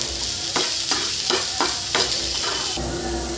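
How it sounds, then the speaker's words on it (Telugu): Thinly sliced onions and green chillies fry in a pan, with a steady sizzle broken by several loud scraping stirs at a roughly even pace, close and alone without talk. "ఇలా వేయించుకోండి మొత్తం"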